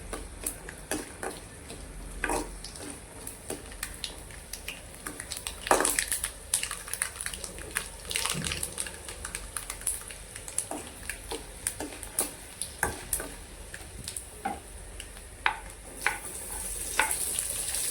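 Onion and green chili for kanda poha sizzle in a pan over a high flame, with steady frying hiss and frequent sharp clicks of stirring.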